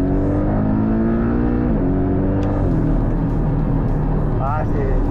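A Porsche Cayman 718 GTS pulls hard under acceleration, its engine note climbing through the revs loud and close from inside the cabin, with a voice talking over it.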